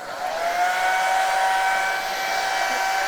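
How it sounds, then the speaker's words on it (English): Steady whooshing airflow from a hair dryer drying a cleaned saw blade or router bit, loud and continuous, with a constant motor whine running throughout and no pauses. "Once it's as dry as you can get it, then I like to just use a hair dryer"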